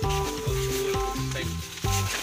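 Nasi goreng fried rice frying in a pan at a campsite, a dense sizzle broken by repeated scraping and stirring strokes of a spatula, close and fairly loud.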